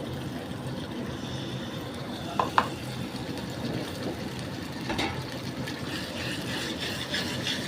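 Ginger, tomato, peas, green chili, garlic and onion masala stir-fried in a pan for an egg and pea curry, a steady close sizzle with a few sharp spatula knocks and scrapes, no voices.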